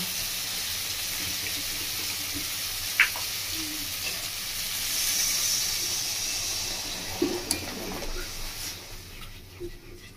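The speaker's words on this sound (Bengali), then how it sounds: "আমি এবার দিয়ে দেবো জল।" Water goes into a kadai of tangra fish curry whose fried spice paste is releasing oil, setting off a hissing sizzle that swells midway, with a few sharp clinks of utensils.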